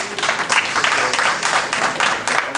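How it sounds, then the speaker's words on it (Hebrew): Applause from a seated audience at a conference opening in Maale Shomron, steady dense clapping sustained throughout at moderate loudness, with faint voices mixed in. "מחיאות כפיים, בהחלט מגיעות להם"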